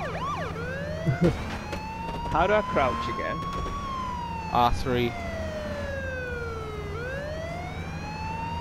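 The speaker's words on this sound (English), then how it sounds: "I'll put my sirens on so he can find me." A police car siren in the video game H1Z1 wails, sweeping up and down continuously, fairly loud, while a person talks briefly over it and engine rumble sits underneath.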